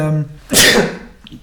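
A single loud, close human sneeze bursts out right after a moment of speech, then trails off quickly.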